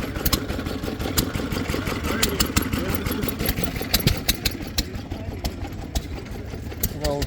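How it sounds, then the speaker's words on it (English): An old steam tractor running at a show, a steady rapid mechanical chugging with sharp clacks, heard fairly close and continuous amid crowd noise and talk. "An old steam tractor."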